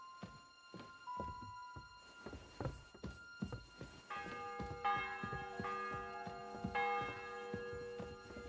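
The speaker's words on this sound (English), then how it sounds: "The bell's ringing for Hans the 5th time." A church bell in the medieval video game Kingdom Come Deliverance 2 tolls repeatedly in a slow, even rhythm, each stroke ringing on with a sustained metallic hum, with a second bell tone joining partway through.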